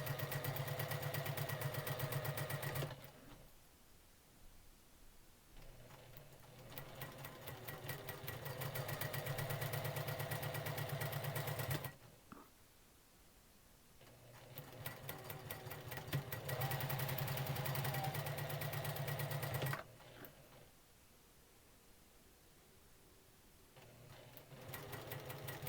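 A sewing machine stitches quilt pinwheel block pieces in three long bursts of steady, near, mechanical whirring, with quiet pauses between the runs and no talking.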